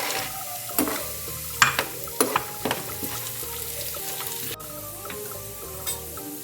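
Peanuts fry in oil alongside roasted chana dal for lemon rice, a continuous sizzle broken by several sharp spoon-against-pan knocks and stirring scrapes, close and moderately loud.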